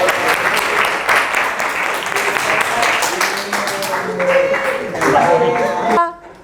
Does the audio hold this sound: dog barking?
no